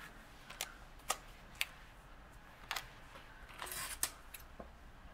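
Scissors snipping a paper planner sticker, a handful of faint, sharp clicks spaced irregularly in a quiet room, with one brief rustle near the end.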